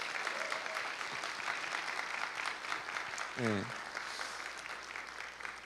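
A church congregation at a Christmas service applauds in a steady, faint wash of clapping. A voice speaks briefly over it.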